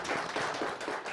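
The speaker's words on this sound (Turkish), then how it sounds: "Başkana bir alkış gelsin ya." A brief burst of steady clapping greets the mayor at a Turkish televised gathering, with the claps close and quick.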